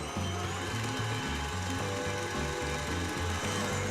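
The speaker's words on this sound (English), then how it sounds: "We're gonna whisk that together for an additional minute." A stand mixer whisks an egg into ginger snap cookie dough with a steady, close motor whir and a rhythmic thumping churn, loud and unbroken, with no talking.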